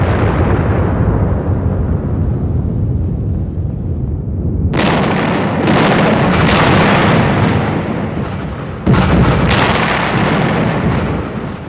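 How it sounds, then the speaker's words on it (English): Naval battle off Guadalcanal with torpedo attack explosions and gunfire: a continuous loud roar of blasts and booms, joined midway by sharp, bright bursts of firing that cut in and out. "At 1:38 a.m., Makawa began firing torpedoes at ships that still didn't know he was there."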